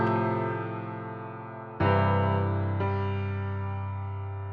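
A chord progression with suspensions played as a music example on a sustained keyboard tone, three held chords where the later ones shift inner notes to resolve, steady and clean with no voices.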